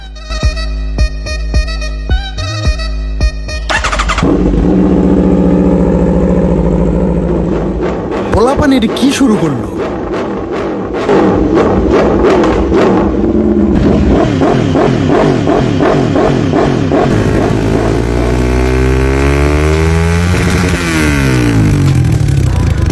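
A motorcycle exhaust is revved hard and repeatedly, loud and close, the engine note rising and falling through several throttle blips after a short stretch of lower-pitched sound at the start, with people talking over it.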